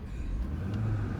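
A car engine gives a low, steady rumbling drone, moderately loud and close, with no voices over it.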